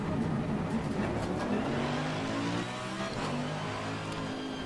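A race car engine roars loud and unbroken in Assetto Corsa Competizione on the Nürburgring circuit, its pitch climbing and settling while the car is driven hard.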